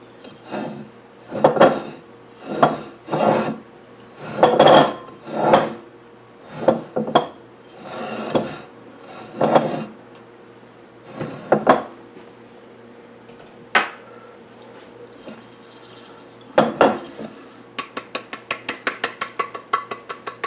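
A greased metal bundt pan being floured and tapped, a series of close, hollow metallic knocks and clanks in uneven bursts, ending with a quick run of light rhythmic taps.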